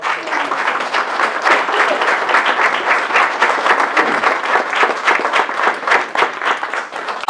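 A room full of people gives a sustained round of applause at a human services organization's annual event, close, loud and continuous clapping from many hands with no talk over it.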